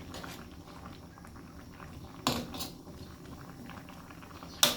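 A pot of Thai sour curry broth with snakehead fish comes to a boil, with a steady low bubbling and simmering texture close by and a couple of brief clinks near the middle and end.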